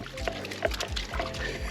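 A dog wades and splashes in the water at a quarry, with rhythmic sloshing and dribbling splashes from its steps, close and continuous.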